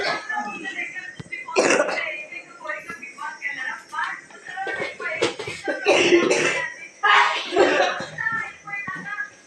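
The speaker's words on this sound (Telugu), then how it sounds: "పోపుకి దగ్గు వస్తుంది." Several harsh, irregular coughs and throat-clearing bursts, set off by fumes from spices tempering in hot oil while pepper rasam is being made, close and fairly loud.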